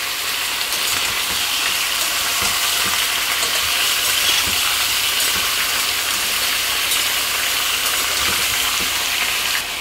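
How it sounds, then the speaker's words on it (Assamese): Chicken pieces fry in hot oil in a pan with a continuous loud sizzle and crackle, close up. Occasional stirring scrapes sound beneath the even hiss throughout. "চিকেনটো অলপ দেৰি ভাজা হৈ গিছে"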